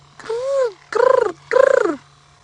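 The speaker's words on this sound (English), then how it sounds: "A couple of laughing doves going." Laughing doves calling on a quiet afternoon in the African bush: three bursts of fairly close, hollow, bubbling coos, each about half a second long with a short pause between them, over a faint steady hum.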